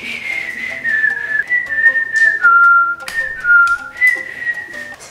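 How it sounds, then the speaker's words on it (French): Someone nearby whistles a wandering, tuneless melody out of nerves, with clear wavering notes for about five seconds and no talking. "C'est quoi ce sifflement de stress là?"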